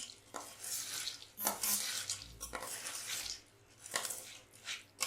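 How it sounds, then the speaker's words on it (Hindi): A spoon stirs sweet boondi through sugar syrup in a pan, giving soft wet scraping and sloshing strokes with light metallic clinks, close and quiet, in uneven repeated passes. "अब हम इसे ऐसे चम्मच से मिक्स कर लेंगे।"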